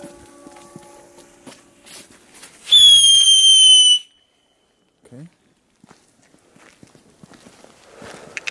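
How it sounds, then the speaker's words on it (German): Whistling fireworks from an assorted consumer fireworks pack, one loud shrill rising whistle lasting over a second amid scattered crackles, pops and footsteps outdoors. "Die pfeifen aber noch richtig"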